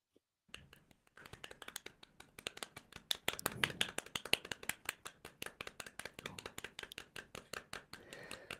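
Audience applause at the end of a Neovim conference talk, a ragged series of individual claps that builds after a quiet start and carries on steadily, fairly close.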